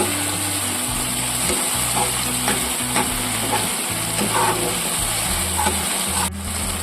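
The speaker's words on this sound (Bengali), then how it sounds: "এবার আমি নাড়তে থাকবো যাতে পুড়ে না যায়" Paneer rezala being stirred in a pan over low flame, a steady close sizzle with soft repeated spoon scrapes and a low humming drone underneath throughout.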